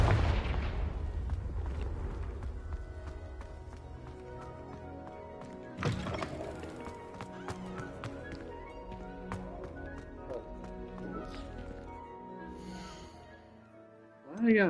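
Fire-spell blasts from the Confringo curse in Hogwarts Legacy go off as several sharp, booming impacts against a busy game soundtrack and effects, with a player's voice talking in between.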